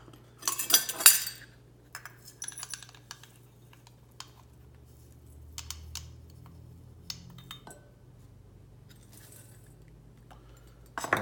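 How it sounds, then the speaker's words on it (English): Granulated sugar being measured into a bowl with measuring cups: metal cups clink and clatter sharply at the start, then softer scattered taps and scrapes follow, close and otherwise quiet. "First, I'm gonna dump in this 1/4 cup of sugar, granulated sugar. And then I'm gonna move to my 1/2 cup."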